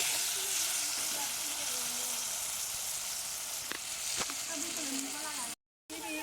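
Tomatoes fry in a pan for a Bengali meat curry: a steady, close, loud sizzle with a dense hiss and a few sharper spits, cutting out briefly near the end.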